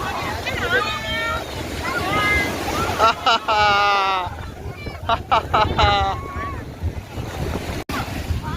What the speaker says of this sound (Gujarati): જો આ બોટ આવ્યો. વાહ હા, કેવી સુપર બોટ છે. જો સુપર સ્પીડ.